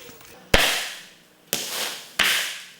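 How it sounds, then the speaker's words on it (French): Firecrackers explode on a foam pyramid film prop, three loud, sharp bangs about a second apart, each followed by a hissing, crackling burn that fades before the next blast, close and with no talking. "Et vient l'inévitable moment où il faut faire péter plein de pétards."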